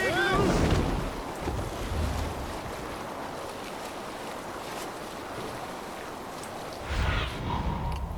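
A Viking longship under sail at sea in Assassin's Creed Valhalla, with a steady wash of wind and waves and rumbling water under the hull, gusting louder at the start and near the end.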